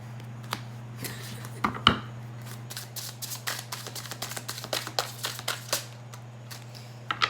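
Tarot cards pulled from a deck and laid out one by one for a Celtic cross spread, giving a string of soft, close snaps and slaps at an uneven pace. A steady low hum sits under the cards, with no voices.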